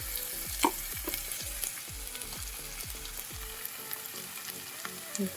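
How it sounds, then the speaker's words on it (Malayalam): Ginger garlic paste fries with onion, tomato and chili in a pan, a close, steady sizzle broken by rhythmic scraping strokes of stirring. "ഇഞ്ചി വെളുത്തുള്ളി പേസ്റ്റ് ഇട്ടു, നല്ല ഇളക്കി കൊടുക്കുക."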